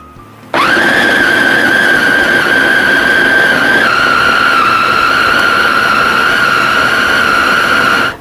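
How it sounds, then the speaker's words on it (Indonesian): An electric food chopper whirs loud and steady as it blends beef with shallots and garlic, no water added, for Indonesian gadon; the motor starts abruptly, holds a constant high whine with a slight pitch drop midway, then cuts off. "langsung saja di blender."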